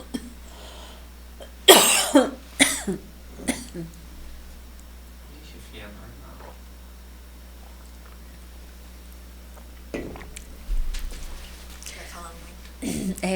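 Several sharp coughs burst out in quick succession, close and loud, followed by quieter noises and another cough later, with talking in between.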